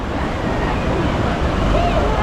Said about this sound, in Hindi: नदी वदी बह रही है